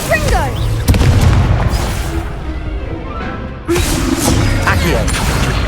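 Booming blasts of the Confringo fire spell in a video game, a heavy burst near the start and another a few seconds later, over a dense, continuous background of game noise.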